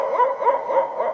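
A man imitates a far-off dog with his voice, giving a muffled, hollow series of soft barks and yowls that blend together in a brief, continuous stretch.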